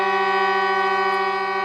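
A single sustained bowed fiddle note holds steady and bright, slightly sour in pitch, drawn slowly and evenly with no other sound.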